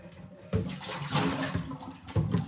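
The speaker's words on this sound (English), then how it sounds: "And then you can dump your water out." Water splashes and pours out in a few quick gushes, close by, sloshing and draining in bursts with brief pauses between.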